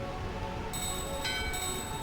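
A door bell in the Final Fantasy I video game rings with sustained bright tones entering partway through and again later, layered over steady game music.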